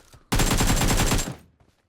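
A rapid burst of automatic gunfire from a video game rattles out in a dense, even run of shots for about a second, loud and close, then cuts off into quiet.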